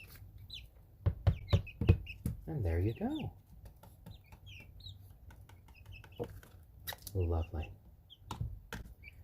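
Chickens cluck and murmur intermittently nearby, with occasional soft knocks, while a person speaks briefly and quietly in between.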